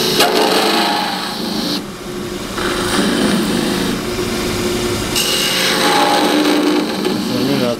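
A wood lathe turning tool cuts off a wooden scoop, giving a loud, close, continuous scraping and whirring with brief pauses and changes in pitch as the tool bites into the spinning wood.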